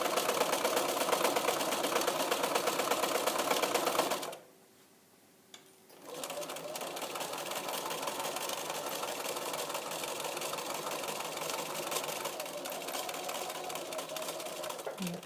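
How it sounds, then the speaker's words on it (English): A sewing machine stitching fabric for a duffle bag's inside pocket, running in a loud steady whir, pausing briefly for a pivot near the middle, then resuming for a long continuous run. "lift the foot, pivot, put the foot down, and you're going to continue sewing"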